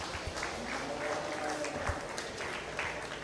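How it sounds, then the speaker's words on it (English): Applause from the crowd at a beef cattle show ring for the exhibitors, light scattered clapping that stays fairly faint and distant and holds steady through the short span. "Let's give those exhibitors a round of applause."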